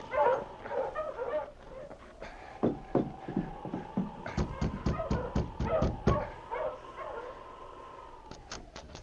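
A team of sled dogs halts in front of a cabin as a radio drama sound effect, yipping, whining and barking in quick bursts over a steady low background, loudest in a rapid cluster midway, with no talk.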